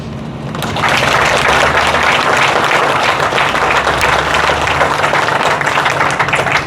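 Loud, dense applause from a large crowd at an outdoor groundbreaking ceremony rises quickly and sustains steadily throughout, a continuous wash of many hands clapping.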